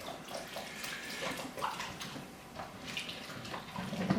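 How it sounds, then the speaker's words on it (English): Vegetable broth poured into an Instant Pot with barley and smoky beans, a steady splashing liquid stream running close and fairly loud throughout. "I think what I'm going to do is add a little bit of vegetable broth."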